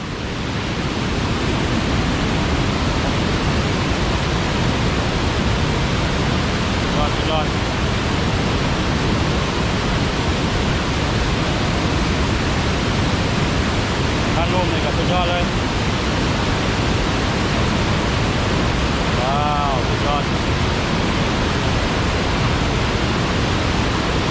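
Tad Sae waterfall in Xieng Ngeun, Luang Prabang, Laos, pours with a loud, unbroken rushing roar heard up close, with faint voices now and then beneath it.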